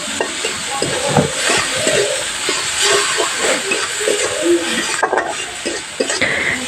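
Prawns seasoned with salt and turmeric sizzle and hiss in a hot wok while being stirred, with scraping and clinking of the spatula over a steady frying crackle.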